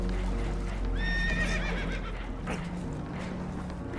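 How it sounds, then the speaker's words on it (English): Spooked horses whinnying loudly on a damaged boat taking on water, a clear descending neigh near the middle over steady rushing water and hoof clatter, with several shorter whinnies after it. "Horses are spooked, and we're taking on water."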